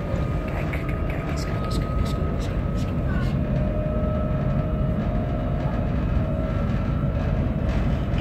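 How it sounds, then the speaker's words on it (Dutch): Steady, loud rumble of a Sprinter passenger train riding along the rails, heard from inside, with a continuous drone and faint rhythmic clicks throughout. "want ik rijd dus nu wel op een spoor"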